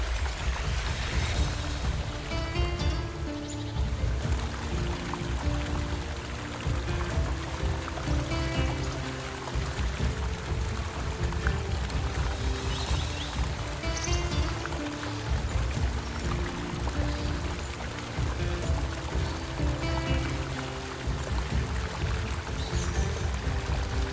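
Yosemite Falls in the United States, the highest waterfall in North America, gives a continuous dense roar of rushing, splashing water that stays steady and loud throughout, with no voices.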